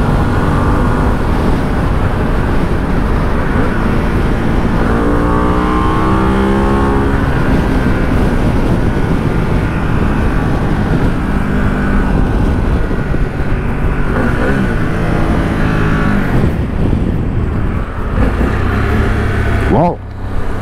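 Harley-Davidson Pan America 1250 motorcycle accelerating hard on a test ride, a loud continuous engine roar with rising pitch sweeps as it climbs through the gears, steady wind rush underneath.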